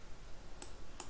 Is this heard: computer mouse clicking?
yes